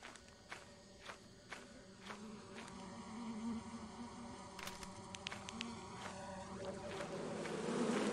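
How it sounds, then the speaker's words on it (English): Bee nests in the horror game Lethal Company, making a continuous insect buzz that grows louder as regular footsteps approach, with a few sharp clicks mixed in. "There is two bee nests"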